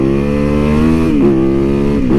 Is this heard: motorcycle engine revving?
yes